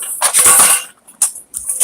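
A metal blender blade clinks and rattles in short bursts against kitchen utensils as it is picked up and handled, with loud, close clatter separated by brief pauses.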